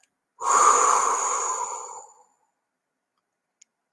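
A single slow, steady exhale during a mindfulness exercise, close and fairly loud, lasting about two seconds and then fading into silence, with a couple of faint clicks near the end.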